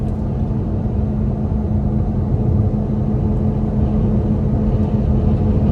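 Lamborghini Aventador LP-700 V12, a 2012 car, cruising in sixth gear with its automated manual gearbox, a steady low engine drone and road rumble heard from inside the cabin without a break.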